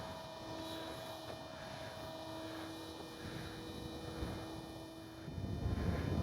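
A HobbyZone Super Cub RC airplane flies at half throttle, its small electric motor giving a steady, thin whine with a soft droning tone at moderate distance, rising a little toward the end.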